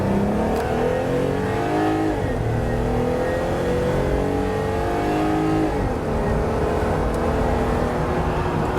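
A Jeep pulls away from a crawl at about one mile an hour, its engine revving up steadily through rising gear pulls with a brief shift dip, loud and close for the whole stretch with no talking.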